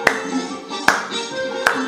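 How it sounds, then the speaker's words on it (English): Three sharp hand claps spaced roughly evenly over two seconds during a fast circle dance routine, each crisp and close, over a background of upbeat music. "Here come the claps."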